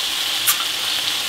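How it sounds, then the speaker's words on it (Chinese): Crayfish being stir-fried in a wok, giving a steady close hiss of sizzling oil with a brief scraping stir in the middle. "翻炒30秒"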